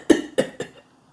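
A man coughs heavily three times in quick succession, harsh and close, each burst weaker than the last before trailing into silence.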